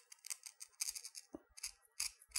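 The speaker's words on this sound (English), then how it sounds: "And you use them like regular scissors. And that's how you cut it." Kevlar shears snipping through Kevlar fibers, a series of crisp, close scissor cuts repeating in quick bursts with brief pauses between them.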